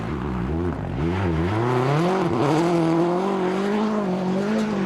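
A Peugeot 307 WRC rally car driven by Marcus Grönholm on the 2004 Monte Carlo Rally, its engine loud and close as it revs up and down through gear changes, with a brief dip and then a sustained high whine.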